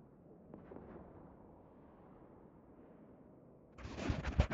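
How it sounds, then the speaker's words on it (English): A spaceship exploding in EVE Online, a low rumbling boom that swells and crackles after a muted stretch of deep rumble. "watch the beautiful explosion"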